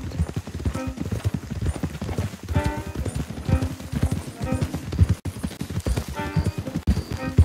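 Horses in the Red Dead Redemption 2 video game clip-clop along at a steady walking rhythm, hoofbeats close and continuous, with faint voices in the background.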